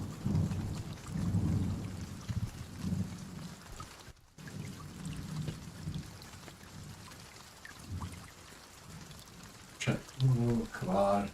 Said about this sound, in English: So I get some pots and pans out before the rain finishes.